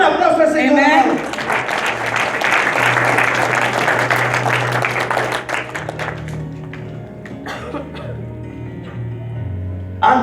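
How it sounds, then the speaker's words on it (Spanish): Church congregation applauding during a Spanish-language sermon, a dense wash of clapping filling the first half and fading out, with organ or keyboard tones sustaining underneath and a preacher's voice returning near the end. "Den un aplauso al Señor."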